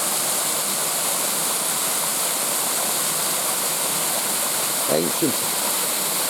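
A British waterfall and stream rush in a dense, constant roar of falling water close by, steady and loud, with a brief voice speaking over it near the end.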